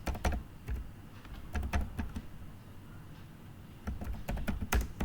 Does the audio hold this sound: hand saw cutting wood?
no